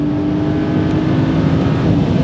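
BMW M3 pulling hard on a racetrack just after an upshift into fourth gear, its engine a loud, close, steady droning roar that holds strong throughout.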